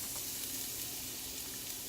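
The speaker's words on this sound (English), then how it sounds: "Oh, hear that sizzle?" Zucchini noodles sizzle steadily in a hot pan, a continuous close hiss of frying that is even and unbroken throughout.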